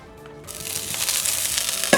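Sausages and potatoes sizzle in hot oil in a pan, a soft steady frying hiss that swells in after a brief quiet start and carries on alone.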